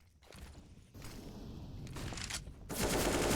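AK rifle fire rattles out during a professional Counter-Strike match on the Ancient map, with faint footsteps and scattered shots giving way to a loud sustained burst at the end.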